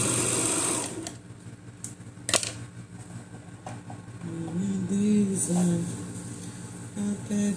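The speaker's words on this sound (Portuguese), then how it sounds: "Eu vou passar uma costura rebatendo aqui pela frente." A sewing machine topstitching a seam on a skirt whirs in loud bursts, with its needle clattering rapidly, interrupted by a few sharp handling clicks and a short pause, while someone speaks in between.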